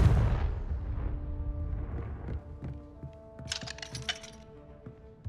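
Blasting Confringo spell in Hogwarts Legacy, a loud booming explosion followed by cracking, glassy clinks and rattling debris that fade over several seconds.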